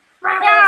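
A person's voice imitates the cat meow from the Monster Hunter video game, a single loud, close, drawn-out nasal meow that starts abruptly after a short silence.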